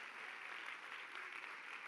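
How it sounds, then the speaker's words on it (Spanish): A church congregation applauds, a steady, dense wash of hand claps that stays even and fairly faint throughout, with no voices heard. "Dele un aplauso al Espíritu Santo."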